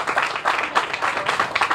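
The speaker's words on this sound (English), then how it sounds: "but clap for her anyway" A small crowd at an outdoor ribbon-cutting ceremony claps in a short burst of applause, loud and close, with uneven rhythmic hand claps.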